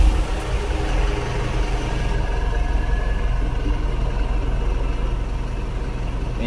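Diesel engine of a Mitsubishi Canter Euro 4 truck running at a steady low idle, a close, continuous rumble with an even throb and no speech.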